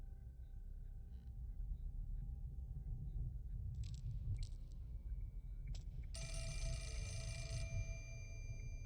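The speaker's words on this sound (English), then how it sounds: "I'm getting sick of these phone calls." Telephone ringing in a horror game, with bright repeated electronic ring bursts in the latter half over a steady low rumble, no talk.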